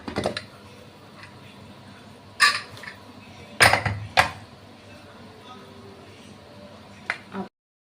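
A pressure cooker holding mutton paya is opened with a few sharp metallic clanks and clicks of the lid, scattered over a quiet background, close by.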